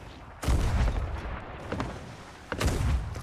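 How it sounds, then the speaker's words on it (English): Gunfire in a pirate video game aimed at a boat: heavy booming shots in two loud bursts, the first near the start and another near the end, with rumbling noise between them. "Bro, they're shooting your boat."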